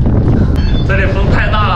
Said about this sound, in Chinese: 天哪，好大的风啊！